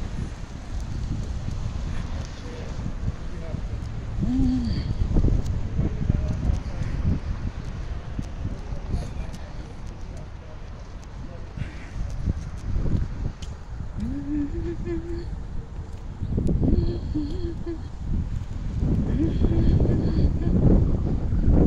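Cold, gusty breeze buffets the microphone outdoors in a loud, continuous low rumble that swells and eases, with faint rustling and scattered clatter underneath.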